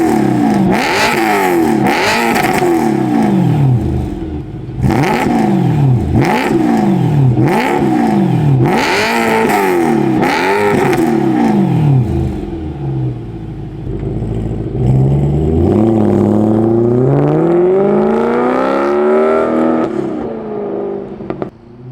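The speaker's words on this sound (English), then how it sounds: "Let's give you guys a couple little blips and revs and hear how the active exhaust sounds." A warmed-up BMW E92 M3 with active exhaust, revved in a string of sharp, loud blips that rise and fall quickly, then one longer climb and settle back to a steady idle burble.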